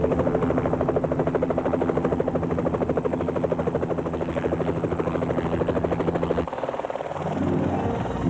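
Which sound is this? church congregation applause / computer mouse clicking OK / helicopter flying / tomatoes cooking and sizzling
helicopter flying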